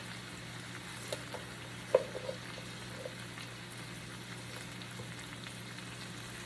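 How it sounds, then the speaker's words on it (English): Cabbage and bacon sizzle and fry steadily in a pan, a continuous soft crackle with a few brief clinks and scrapes of stirring near the start. "We just wanna give this a good stir once in a while and let it cook down."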